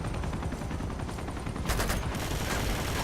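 Video game gunfire in Uncharted 2: a steady spray of rapid shots, growing denser and louder partway through as a sharper burst cuts in, with no talk over it.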